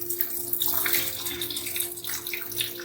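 Water runs steadily from a tap over beef being washed, splashing and gurgling continuously at close range, with a low hum underneath.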